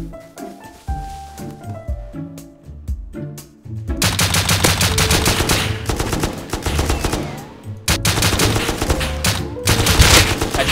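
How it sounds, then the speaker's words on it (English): Rapid sustained bursts of M249 machine-gun fire in the Rust survival game, loud and continuous with brief gaps, dense clatter dominating the scene and no talking. "Jesus, what gun is that? Whoa, that's an M249."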